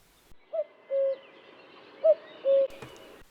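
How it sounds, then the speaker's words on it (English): Two rounds of a common cuckoo's two-note call ring out in the New Forest, a short higher note followed by a longer lower one, clear against a quiet outdoor background. "The familiar sound of the cuckoo can be heard from late April and throughout May."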